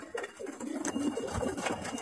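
Domestic pigeons kept at a home loft coo in low, soft, rolling murmurs that repeat steadily throughout, close by and fairly quiet, with no talking.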